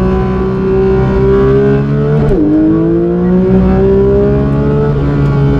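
A Porsche 992 GT3 engine revs high and loud close by, its steady howl climbing in pitch, dipping sharply at a shift and then rising again as the rpm builds.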